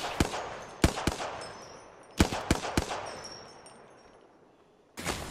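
Gunfire in the Apex Legends video game: several sharp, distinct shots crack out in irregular bursts, a pair and then a tight cluster of three, followed by another shot after a pause, fairly loud with little else around.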